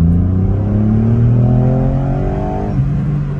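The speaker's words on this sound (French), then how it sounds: "Vous sentez le turbo qui se met en route." A Ford Fiesta ST+ with turbo accelerates hard in second gear at full throttle, engine note climbing steadily from a low drone to a strained high rev, loud and close from inside the car.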